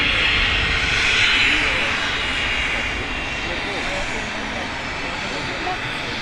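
A small aircraft at Manchester Airport passes with a loud, steady engine roar that slowly eases but stays strong throughout, while people talk faintly beneath it.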